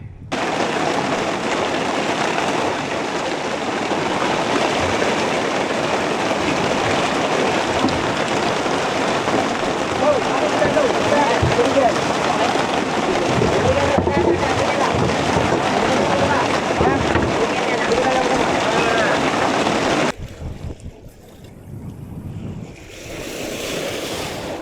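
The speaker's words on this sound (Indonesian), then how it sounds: "Sekarang dia hujan." Rain falls steadily on a boat out fishing, a loud, dense hiss of drops on water and surfaces that runs for about twenty seconds and then drops away to a quieter, patchy patter.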